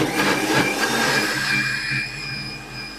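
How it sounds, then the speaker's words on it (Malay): A blender grinds spices steadily with a dense whirring roar that holds for a few seconds, then eases slightly as the motor settles. "Kita masukkan dalam blender."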